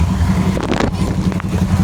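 A motorcycle rides through deep floodwater on Llano Road in Caloocan City during a typhoon, its engine droning steadily close by while water sloshes around it, with voices talking over the scene.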